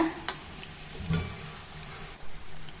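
Paneer pakora frying in hot oil as the pieces float up and are flipped: a steady close sizzle broken by a few sharp clicks and taps from the turning utensil.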